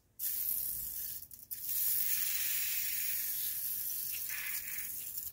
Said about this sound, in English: let's clean this off with some brake cleaner